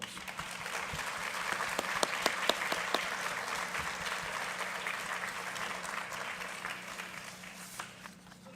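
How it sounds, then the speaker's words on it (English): A school board meeting audience applauds students with a long, steady round of clapping. The applause stays fairly even, with a few sharper claps standing out, then tapers off near the end. "Please give them a round of applause."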